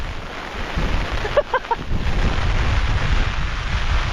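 Strong cyclone wind roars across an umbrella outdoors as a constant loud, rumbling buffet on the microphone, with a few brief faint tones breaking through midway.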